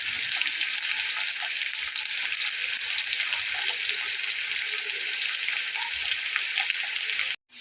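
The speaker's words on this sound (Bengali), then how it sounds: "আলুটা কিন্তু ভাজা হয়ে যাচ্ছে" Potatoes frying in oil in a pan, a dense, even sizzle that runs steadily up close, cutting out abruptly near the end.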